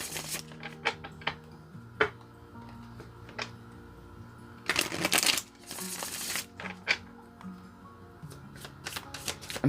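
Gilded Tarot cards being shuffled in repeated crisp riffling bursts, close and fairly soft, with a louder flurry midway and no talking.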